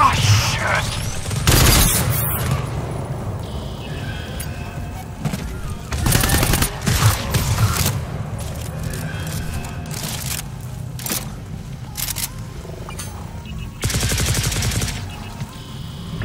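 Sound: gunfire shooting at a charger enemy in video game GTFO

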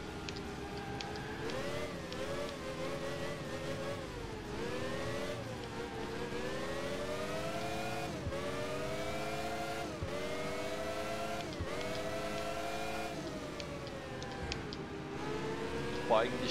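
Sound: car gear shifting and engine in Alarm für Cobra 11 video game

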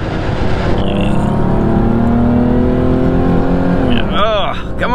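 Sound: 1988 Oldsmobile Cutlass Supreme engine accelerating at full throttle

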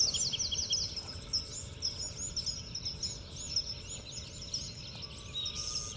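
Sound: birds singing at sunrise, including sparrows

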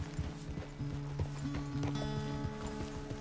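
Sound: horse hooves while riding, from video game Red Dead Redemption 2

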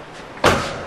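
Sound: car door being shut

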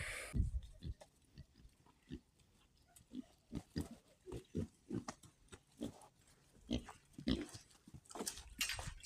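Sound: black pigs grazing on grass

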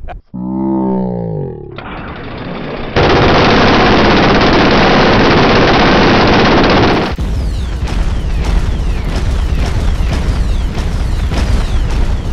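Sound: M134 minigun firing

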